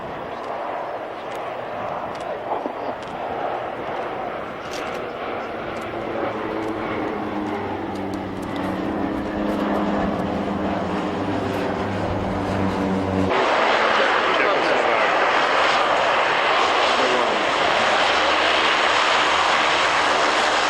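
Spanish aerobatics team aircraft fly at an air show, their engines droning loud and close, with the pitch sliding as they pass before a sudden louder roar takes over. A commentator talks over the engine noise.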